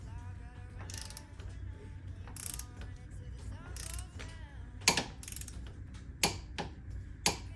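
A torque wrench ratchets in quick clicking bursts while tightening a bolt on a Polaris Ranger Northstar, with several sharp louder clicks near the end over a low mechanical hum.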